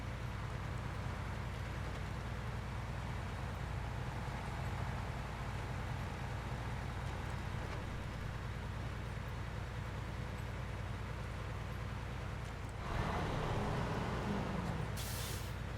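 A heavy off-road truck engine in SnowRunner drones steadily and loud throughout, with a hissing, air-brake-like burst near the end; no speech over it.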